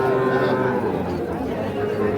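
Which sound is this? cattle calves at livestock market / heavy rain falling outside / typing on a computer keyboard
cattle calves at livestock market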